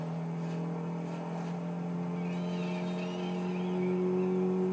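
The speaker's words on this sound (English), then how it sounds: "I think this is the same engine as on the Mitsubishi Lancer." A car engine in Forza Horizon 5 that shares the Mitsubishi Lancer's engine: a steady droning hum holding a constant pitch, gradually growing a little louder, close and continuous.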